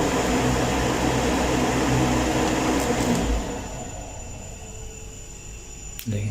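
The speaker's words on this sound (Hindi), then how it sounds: "देखिए कूलर रुक गया।" A DC cooler fan running off a DC-to-12-volt converter whirs with a loud, steady broadband hum, then drops sharply in level as a terminal is pulled and the motor winds down, ending with a faint click.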